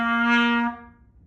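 A trumpet sounds a single sustained low C with no valves pressed, a clear brassy tone held for under a second before it cuts off, close and solo.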